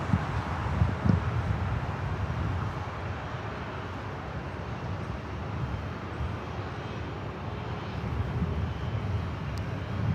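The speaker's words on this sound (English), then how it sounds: "A long line of takeoffs happening here on the north side" An airliner takes off at LAX as a broad, distant engine roar rumbles steadily, mixed with wind noise on the microphone and no voices.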